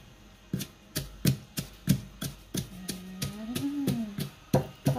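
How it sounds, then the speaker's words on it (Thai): An elderly woman pounds chili paste with rice in a mortar, giving a steady run of sharp, close pestle thuds about two per second, with a brief low voice-like hum in the middle. "โอเคเดี๋ยวให้คุณยายโขลกน้ำพริก"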